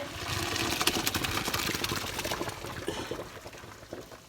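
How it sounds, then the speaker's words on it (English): Boiled macaroni and hot water pour from a pot into a strainer at a kitchen sink, a loud continuous rushing splash that gradually eases. "the macaroni into the strainer to get all of that water out of it"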